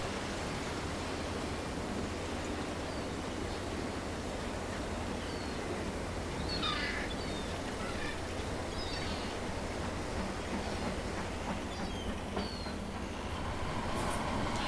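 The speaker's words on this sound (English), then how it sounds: "The train pulls into the reception siding" A train rolls slowly into a reception siding at a heritage railway where a Ruston & Hornsby 07 shunter waits, giving a steady broad rumble of wheels and rail noise throughout, with faint brief squeals and metallic ticks drifting in.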